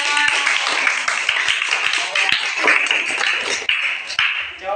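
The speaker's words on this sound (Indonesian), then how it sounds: "Tepuk tangan." Classroom hand clapping during a lesson on early Islamic history, loud and close, with quick irregular claps over a busy noisy room.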